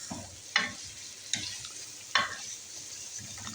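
Qeema roasting in a pan while being stirred, a soft background sizzle punctuated by three distinct spoon knocks against the pan and lighter scraping in between.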